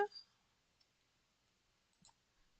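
A computer mouse clicks a few times: one crisp click at the start, then isolated faint clicks, all close and quiet against near silence.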